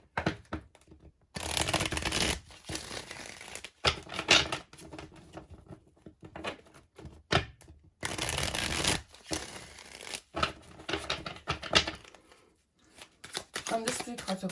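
Mystic Moon Oracle cards being shuffled in bursts of soft papery riffling and patter, close by, separated by short quiet gaps.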